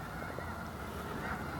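A large flock of snow geese in a winter field in the Skagit area honks continuously, making a dense, distant chorus of overlapping calls with no talk.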